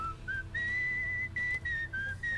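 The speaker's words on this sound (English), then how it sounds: "Whistling simulator" Whistled melody from a character in the video game Where The Water Tastes Like Wine, a clear single-toned tune of sustained and sliding notes with brief gaps, close and alone over a low steady background hum.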